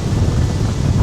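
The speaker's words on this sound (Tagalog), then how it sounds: "Ang lamig, malakas ng hangin." Strong cold wind buffeting the microphone at Cringle Lake, UK, a loud low rumble that roars continuously throughout.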